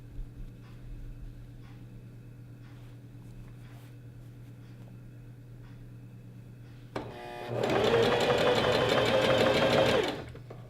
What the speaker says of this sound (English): So we're just going to roll hem this.